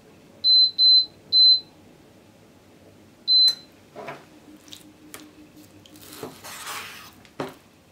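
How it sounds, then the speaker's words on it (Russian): A multicooker gives three short electronic beeps in quick succession as it is switched to frying mode, then a fourth after a pause, followed by soft clicks, rustling and a brief sizzle of heating oil. "Включаем мультиварку на режим жарко."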